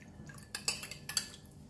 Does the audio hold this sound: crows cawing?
no